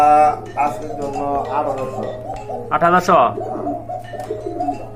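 A male pigeon at a Bangladeshi pigeon seller's coos loudly and close, several rolling calls in a row over a steady low hum. Voices are also heard.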